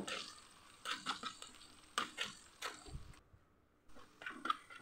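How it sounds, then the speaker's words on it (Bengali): Garlic, onion, cumin and coriander powder frying in oil in a wok, faint sizzling broken by several stirring scrapes and clatters, with short quiet gaps between them. "এখন আমি কড়াইতে তেল দিয়ে দিব, রসুন দিয়ে দিলাম, পেঁয়াজ দিয়ে দিব আর জিরা গুঁড়ো আর ধনিয়া গুঁড়ো দিয়ে ভালো করে একটু ভেজে নেব"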